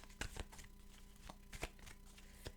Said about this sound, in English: Give them a fast shuffle.